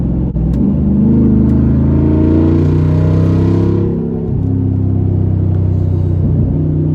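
A Jeep Wrangler Rubicon 392 V8 revs loudly with a steady deep rumble as it accelerates under paddle-shifted manual mode, the pitch climbing in stepped gear changes before easing off and building again near the microphone.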